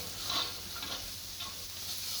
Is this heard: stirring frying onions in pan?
yes